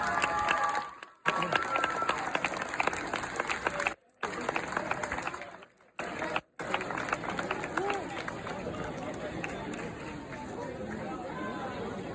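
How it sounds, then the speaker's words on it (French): Audience applause greets a contestant at the Miss Centre Bretagne 2025 pageant: dense, sustained clapping mixed with crowd chatter and cheering, broken by a few short gaps, with voices heard amid the noise. "Sous vos applaudissements."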